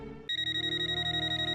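A telephone rings with a bright electronic ringtone, a rapid pulsing tone that repeats steadily after a brief lower sound at the start, close and clear with no speech.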